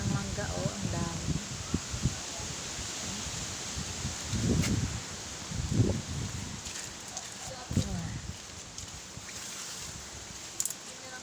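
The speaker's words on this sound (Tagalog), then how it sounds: "Pabugso-bugso pa yung hangin" Gusty typhoon wind rushes through mango trees with rustling leaves, rising in bursts, while people talk quietly nearby.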